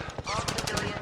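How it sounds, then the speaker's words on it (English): Rapid automatic gunfire from Firefly fighters in The Last of Us, a dense, reverberant burst of rattling shots packed into about a second, loud and harsh against a muffled background. "the Fireflies open fire on the agents that are patrolling the area"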